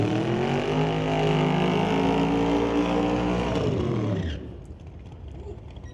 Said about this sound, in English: Rod Leclerc, our number one qualifier, rolls up in the Camaro.